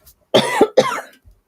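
Two sharp coughs in quick succession, close and fairly loud, with a faint throat noise before and after.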